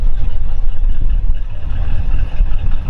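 A 1957 Studebaker Golden Hawk with a Paxton-supercharged 289 V8 and Flight-O-Matic automatic idles close by, a loud, steady low rumble with a lumpy, pulsing throb and no talking.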